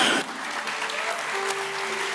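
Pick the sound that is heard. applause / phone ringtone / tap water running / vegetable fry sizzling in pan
applause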